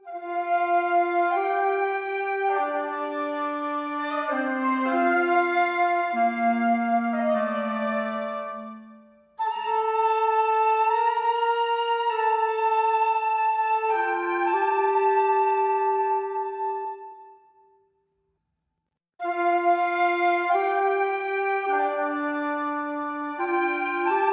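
Two woodwind lines, flute and clarinet, weave together in a gentle melody, with brief pauses between phrases and no voices.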